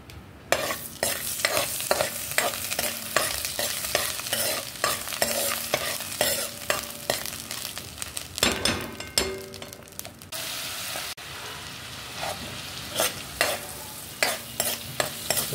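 Whole spices sizzle and fry in butter over low heat for a butter chicken dish, with steady crackling punctuated by repeated stirring and scraping strokes in the pan; no voices.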